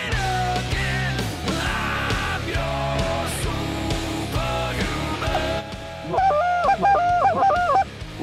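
A flock of geese on a goose hunt honk loudly and continuously, many calls overlapping in a dense chorus, with a few clear honks standing out near the end.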